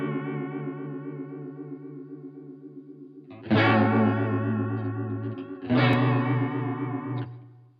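Electric guitar played through a pedalboard with delay effects, sustained chords ringing with echoing repeats, a softer passage followed by two louder strummed chords that swell and decay, no talk.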